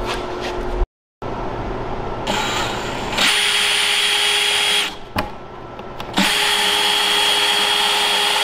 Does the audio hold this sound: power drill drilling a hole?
yes